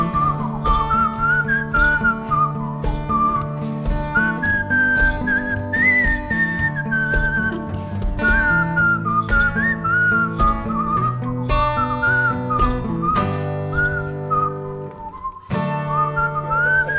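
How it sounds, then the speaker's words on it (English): A person whistles a solo melody at a Friday night Shabbat service, clear and close, with the tune moving in phrases over steady instrumental accompaniment. "whistle solo."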